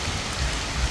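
Rain falls steadily outdoors on a rainy day, a soft, even patter and hiss of drops that holds at a constant level with no voices over it.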